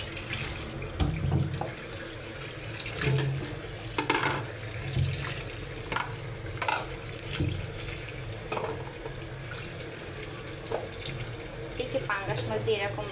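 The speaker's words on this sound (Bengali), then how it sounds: "লাউটা এখন আমি ধুয়ে নিব।" Tap water runs into a sink while a bottle gourd is washed under it, splashing and shifting in uneven bursts, with a voice talking intermittently over it.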